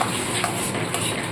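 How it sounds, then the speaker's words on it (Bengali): A spoon stirs chilli soya chunks and diluted soy sauce in a pan, making a steady soft scraping and light sizzling with occasional faint clinks, close and alone with no talking. "এবার ভালো করে নাড়তে থাকবো।"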